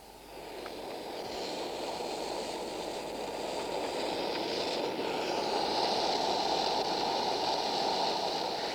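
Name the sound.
model train carriage on sprung bogies running on track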